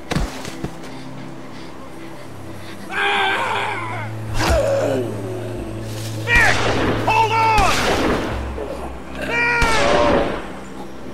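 Several sharp gunshots ring out in The Walking Dead Season 2 Episode 2 video game on PS4. The scattered bursts mix with pained groans, strained vocal cries and low background tones.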